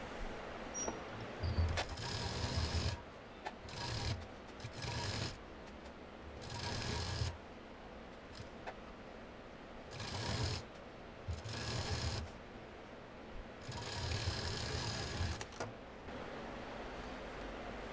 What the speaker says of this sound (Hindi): इसमें पूरी सफाई के साथ ध्यान से सिलना है।